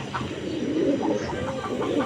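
A pair of Giribaz high-flyer pigeons of a foreign bloodline, a red-ghiya chakchaka hen and cock, coo in repeated soft throaty phrases, close and steady over a light background hum.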